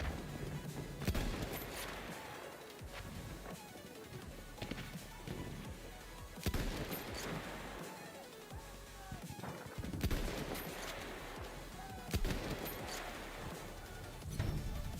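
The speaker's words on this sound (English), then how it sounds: "There, enemy machine gun." Enemy machine gun fire in Battlefield 1: repeated bursts of rapid shots crackle in waves amid battlefield clatter, loud at times and receding between bursts.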